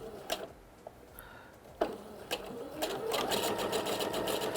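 A sewing machine stitches a Snowball patchwork block, starting with a few short clicks and taps, then settling into a steady, close mechanical hum of continuous stitching.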